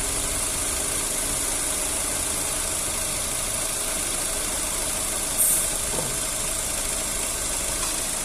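A 2009 Opel Astra engine running steadily at idle, a loud continuous hum and drone with faint rhythmic knocking underneath, recorded close to the engine bay.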